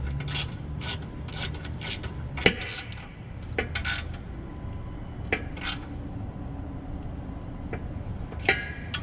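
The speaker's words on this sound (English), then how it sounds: "so now I can tighten this up." Ratchet wrench tightening the oil pan bolts on a Jeep Liberty 3.7 V6, with several bursts of rapid clicking separated by sharp metallic taps and clanks, close and fairly loud in a quiet garage.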